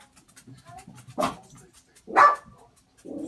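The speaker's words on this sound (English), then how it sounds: "she's gonna keep barking, but that's okay" A dog barks twice, loud and close, with a short pause between, over faint background shuffling; a third bark starts at the end.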